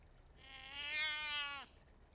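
A single drawn-out cat meow, rising and then cutting off sharply, heard alone and fairly close over quiet background noise.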